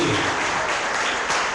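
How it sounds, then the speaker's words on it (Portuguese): Church congregation clapping for the Lord during a family-campaign service, a steady dense wash of hands filling the room, with a voice faintly mixed in. "Vamos aplaudir o Senhor, em nome de Jesus, por isso."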